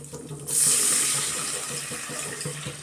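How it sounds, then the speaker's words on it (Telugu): Water runs steadily from a tap into a pot for cooking rice, a bright rushing stream starting after a brief pause and continuing to the end. "వేసే సరిపడా వాటర్ పోసుకోవాలి"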